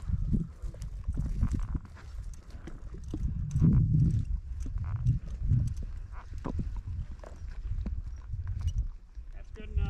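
Horse hooves clip-clopping at a walking pace on a hard surface at a dog field trial, with some muffled voices and movement around them.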